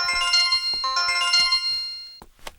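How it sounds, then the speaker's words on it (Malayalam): A mobile phone ringtone rings loudly and close by, in a bright melodic pattern of repeated tonal bursts lasting about two seconds, followed by a short rustle. "വിനയ, നിന്റെ ഫോൺ"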